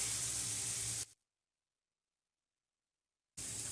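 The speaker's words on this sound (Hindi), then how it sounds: "इनको भी हम 2 से 3 मिनट भून लेंगे।" Potato koftas sizzle in hot oil in a pan, a steady broadband frying hiss that cuts off abruptly into a stretch of silence before resuming just as loud.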